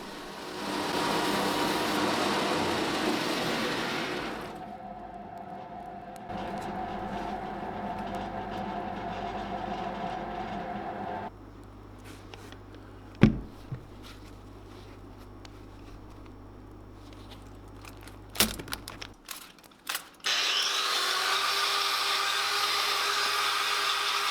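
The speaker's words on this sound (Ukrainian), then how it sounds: "Поверхню я заполірую на повстяному колі." A motor whirs loudly in sections with a broad grinding hiss as a steel armor gauntlet is polished on a felt wheel, stopping and restarting, with a few sharp clanks during a quieter humming stretch.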